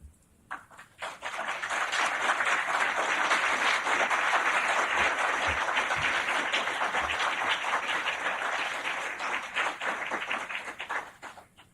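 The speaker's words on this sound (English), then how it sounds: "Thank you for having applauded" Sustained applause from a large crowd, many hands clapping steadily for about ten seconds before tapering off at the end.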